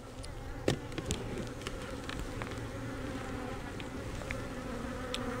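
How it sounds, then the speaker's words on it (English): Honey bees buzzing around an opened hive during an inspection of a queenless split, a steady close hum with individual bees droning past, a few light knocks from handling frames, no talking. "These bees are a little jumpy."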